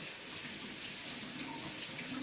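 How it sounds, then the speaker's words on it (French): A kitchen tap runs steadily as a spoon is rinsed beneath it, a soft, continuous splashing hiss heard faintly throughout. "Je lave ma cuillère."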